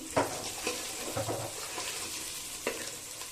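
Onions lightly frying in a pan, a soft continuous sizzle broken by a few scraping stirs of a spoon, close and fairly quiet.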